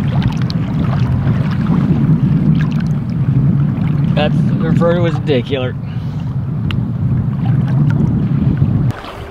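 An outboard-powered boat runs on open water near the Seven Mile Bridge, its loud low engine drone steady throughout, with wind buffeting the microphone and someone talking briefly over it midway.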